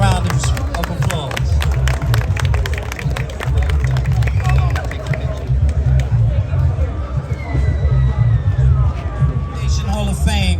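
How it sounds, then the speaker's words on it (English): Audience applause at a basketball hall of fame induction ceremony, dense clapping mixed with crowd hubbub for roughly five seconds, then thinning into a murmuring room. "a round of applause"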